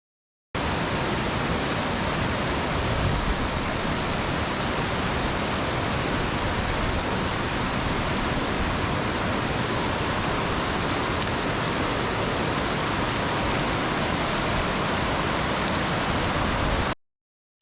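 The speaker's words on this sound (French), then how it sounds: "Nous arrivons à un ruisseau qui a un peu plus de débit" A fast-flowing creek on the Pacific Crest Trail in Washington rushes in a steady, dense roar, close and loud and unbroken throughout, with no voices.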